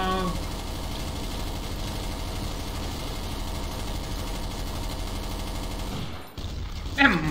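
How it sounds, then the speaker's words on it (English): A machine gun in Counter-Strike: Source fires a long, unbroken burst of rapid shots against zombies, a dense rattling stream lasting several seconds before stopping, followed by a brief clatter. "Machine gun is good, you know. It has some punch to it."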